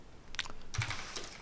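Computer keyboard typing: a short burst of a few close, light key clicks over quiet room tone, with no talk.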